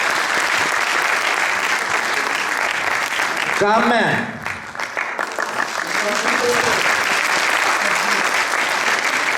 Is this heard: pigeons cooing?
no